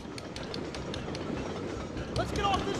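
A train rolls along in the video game Syphon Filter 2, a steady rumbling clatter with faint clicks and a brief metallic squeal near the end, moderately loud throughout.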